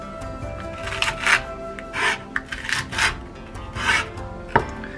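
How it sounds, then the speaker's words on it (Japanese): A knife finely julienning the white part of a green onion on a cutting board, a series of quick rasping strokes at an uneven rhythm, close and clear, with no talk. "細かく千切りに切っていきます。"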